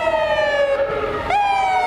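Ambulance siren at the 2002 inaugural parade for the governor in Trenton, a loud continuous wail that falls slowly, dips, then sweeps up sharply and holds, close by with no speech.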